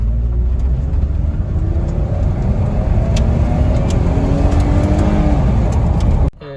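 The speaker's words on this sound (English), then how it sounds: "it says to do some full throttle pulls" A 2007 Chevy Malibu Maxx engine, freshly fitted with new spark plugs and wires, pulls hard at full throttle, its loud drone climbing in pitch for several seconds before cutting off abruptly.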